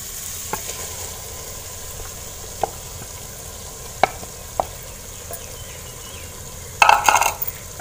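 Boiled chana dal being stirred into fried spices in a pan, a low sizzle running underneath with occasional sharp spoon clinks against the metal and a brief burst of scraping near the end.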